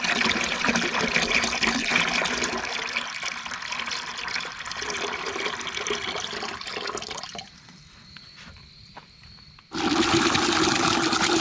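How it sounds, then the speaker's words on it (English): Water running into a plastic jug with bleach for shock-chlorinating a newly drilled well: a loud, steady splashing gush, then a brief quieter trickle before the full flow resumes, no talk. "then I'll run 3 or 4 more gallons of water into this"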